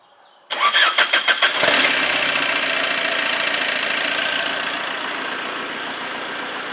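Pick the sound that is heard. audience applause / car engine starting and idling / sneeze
car engine starting and idling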